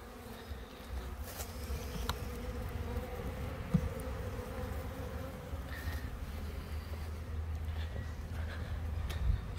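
Honey bees hum around a hive as they bring in pollen, a constant close buzz with single bees passing near the listener, all fairly soft and with no talking.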